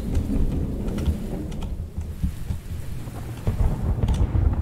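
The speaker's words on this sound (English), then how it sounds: "Is it lightning like that? And lightning doesn't strike every 3 seconds." Loud, steady rain pours in the video game Pamela while deep rumbles of thunder roll through at intervals, with no one talking.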